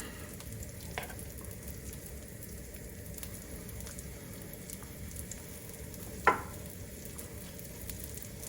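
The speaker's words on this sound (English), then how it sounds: "You can see the bacon fat's already frying them." Kimchi and protein pancakes fry in bacon fat in a pan, a steady close crackling sizzle with a couple of brief sharp pops or clinks; no talking.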